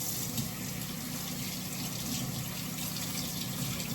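Water runs steadily from a tap for washing, a continuous broadband rush with no pauses or talk, close and even throughout.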